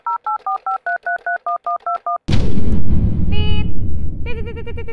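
Telephone dialing tones ring out as a rapid, evenly spaced series of about eleven loud, clear beeps, followed by a burst of line noise and then brief ringing or connection tones.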